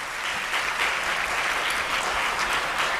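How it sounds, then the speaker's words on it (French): A conference audience at an entrepreneurship forum applauds as an elected deputy takes the stage, a steady, even wash of clapping with no voices over it. "Merci à tout le monde, en tout cas pour les applaudissements."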